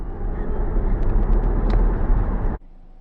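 Tesla Model S launching hard from a standstill, a loud, sustained roar of electric drive and road noise building for over two seconds, then cutting off abruptly into quiet cabin hum.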